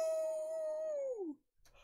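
A voice imitates a big dog's bark as a single long, drawn-out howling "woo" that holds steady, then slides down in pitch and stops, followed by quiet.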